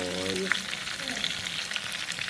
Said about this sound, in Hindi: तो ये अब हम दूसरी भी इसी तरह फ्राई करेंगे 5 से 6 मिनट तक